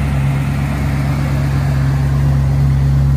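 Engine of a 2002 Maserati Cambiocorsa convertible with 390 horsepower running steadily, a strong low hum with a constant tone, close and unbroken throughout.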